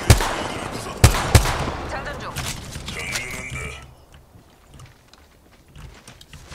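Gunfire in the Apex Legends video game: a few sharp shots at the start and one after a second, with game noise trailing off into a quieter stretch while a voice speaks.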